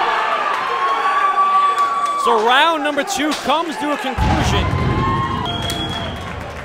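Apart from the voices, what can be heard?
crowd cheering at an MMA fight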